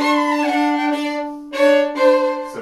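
Bowed string instrument, early-jazz style, plays a few short, crisply separated quaver strokes in a clear, close, solo phrase with ringing harmonics.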